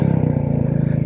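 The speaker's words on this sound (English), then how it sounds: "little 20 horsepower motorcycle, and she doesn't seem to have any trouble having any fun" A Royal Enfield 350 motorcycle, a small 20-horsepower single, rides on a winter road with a close, rapid, even thumping engine beat that throbs steadily for the short stretch.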